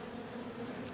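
Honeybees in a hive being opened, a horizontal top-bar or Warré basket hive, giving a steady, dense close-up hum that holds evenly through the whole second with no voices over it.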